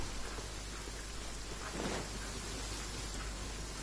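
Steady rain falls in the video game Genshin Impact, a continuous even hiss of downpour that holds at moderate level for the whole stretch, with no voices.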